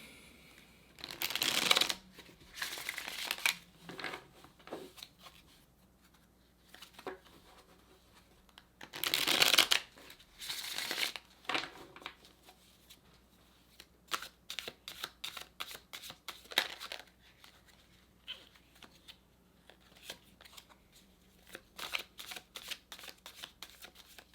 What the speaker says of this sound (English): So let me shuffle here for you.